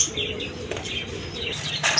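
A pair of big Marshall pigeons, a red male and a chocolate-coloured female, cooing softly at close range, with a brief flutter near the end.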